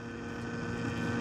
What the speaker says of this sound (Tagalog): you can hear the motor spooling up